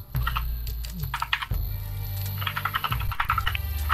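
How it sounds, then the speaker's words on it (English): Rapid, uneven clatter of a computer keyboard being typed on up close, bursts of keystrokes over a low background hum with no voices. "Can you stop with the typing?"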